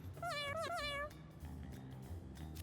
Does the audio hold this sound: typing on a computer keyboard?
no